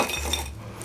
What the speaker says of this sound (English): we will first fill this up halfway with some crushed ice